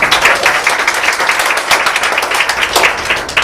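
An audience at a lecture applauds. The clapping is a dense, steady patter of many hands that holds at even strength for a few seconds with no voices.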